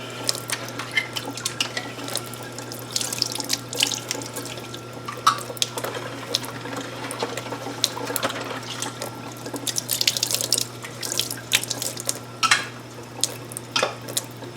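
Tap water runs steadily while canning jars are rinsed at a kitchen sink, a continuous close wash with scattered splashes and clinks, no talking.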